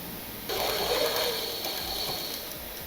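A sewing machine stitching a fold of fabric little by little while making baby panties, starting suddenly with a steady mechanical whirr and rattle that runs evenly to the end, close and with no talk.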